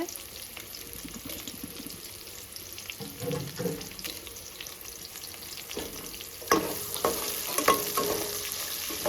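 Onion and green chillies frying as a tempering in a pan produce a soft, continuous sizzle, with clinks and scraping stirs that grow louder toward the end.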